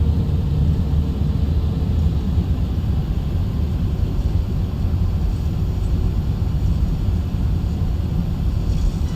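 Virgin Atlantic Airbus A330-900 jet engines roar steadily through a takeoff roll in Microsoft Flight Simulator, a loud, continuous low rumble with broadband hiss that holds level throughout, no voices.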